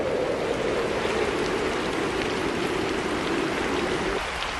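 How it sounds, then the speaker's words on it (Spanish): Fine, persistent rain falls steadily over a military area, a dense continuous hiss of drops with no pauses, even and fairly loud throughout. "una lluvia fina y persistente comenzó a caer sobre la zona militar"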